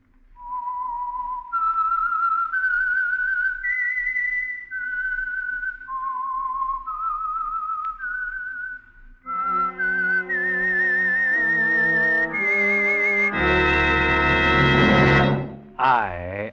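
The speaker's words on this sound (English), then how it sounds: "the signal to listen for is this whistle that identifies the signal oil program" A lone whistler carries the signature tune of The Whistler radio mystery show, a clear melodic line of sustained notes, then a full orchestra joins and swells loudly before cutting off.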